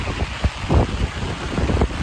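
Heavy rain pours over hills in the Sambalpuri countryside, making a dense, steady hiss with a low rumble of wind buffeting underneath. No voices are heard.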